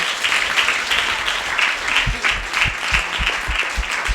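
A church congregation claps loudly together, a dense sustained wave of applause filling the hall with bursts of rhythmic hand claps running through it.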